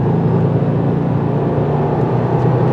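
A 2024 Subaru WRX TR engine pulls steadily in 4th gear at around 3,000 RPM, a loud, even drone with constant cabin hum and no gear changes.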